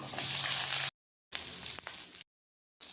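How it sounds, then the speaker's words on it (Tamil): Chopped onions go into hot oil with crackling mustard seeds and cumin, giving two loud bursts of frying sizzle separated by gaps of silence. "கட் பண்ணி வச்சுருந்தா வெங்காயத்தை சேர்த்துக்கிடுவோம்."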